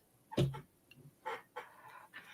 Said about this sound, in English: See the chicken sleeping.